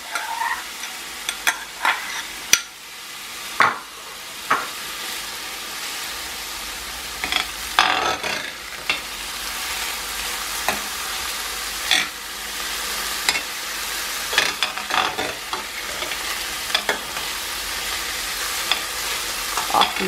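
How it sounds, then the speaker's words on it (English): Diced peppers and garlic frying in a pot, a continuous hiss of sizzling oil punctuated by frequent sharp scrapes and taps of a spoon as the mixture is stirred, fairly loud and close. "I'm also gonna add my diced peppers"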